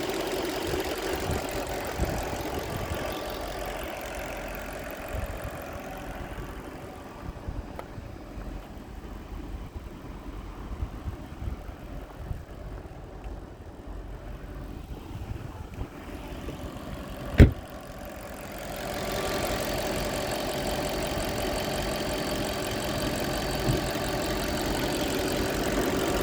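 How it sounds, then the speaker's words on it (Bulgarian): A car engine idles steadily at low volume, a continuous rumble with a brief sharp click partway through. "Супер си работи моторчето."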